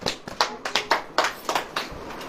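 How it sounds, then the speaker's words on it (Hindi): A church congregation claps in unison during a sermon, about eight or nine crisp, evenly spaced claps in a quick steady rhythm, close and fairly loud with no talking. "तालियां बज रही हैं।"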